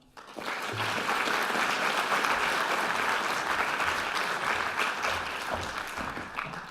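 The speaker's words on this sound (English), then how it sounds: "please, round of applause as we welcome our Dean, Peter Tufano" Audience applause welcoming a dean to the stage for a welcome address, broad and sustained clapping from a large crowd that starts abruptly and holds steady for several seconds before easing slightly.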